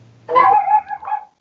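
A dog lets out a single yelping bark that trails into a whiny, howling whimper, close and loud against a quiet background with no talk.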